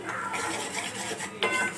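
A spatula scrapes and stirs a mixture being sautéed in a pan in a home kitchen, giving a steady soft scraping with one sharper clink near the end and no talking.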